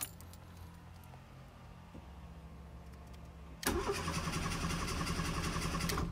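Fiat Panda 141 899cc starting with the key: after a quiet low idle-like hum, the engine abruptly catches with a loud broadband burst and keeps running steadily, close to the microphone.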